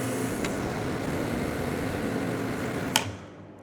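A pressure washer fires water through a triple nozzle into a bucket, making a steady, loud, broadband hiss that runs unbroken before cutting off abruptly near the end.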